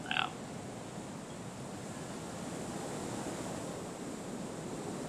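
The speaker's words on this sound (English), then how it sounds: "the wind's blowing through all these trees" Wind rushes steadily through forest trees in the video game Kholat, a constant broad hiss that swells slightly toward the end, with a brief higher blip at the very start.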